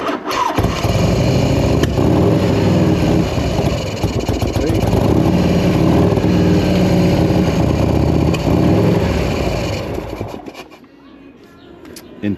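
A 1984 Harley-Davidson FLT Tour Glide engine with a fault that stops it revving runs loud and close, rough and uneven under throttle for about ten seconds before it cuts out and dies into near quiet.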